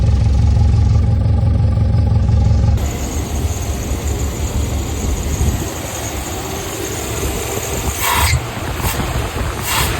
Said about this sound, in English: There's that funny exhaust.